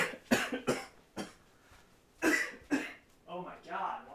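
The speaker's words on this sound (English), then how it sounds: "hopefully that will make this cough go away" Several harsh coughs burst out close to the mic in uneven clusters, with throat-clearing between them, and a voice speaks at the end.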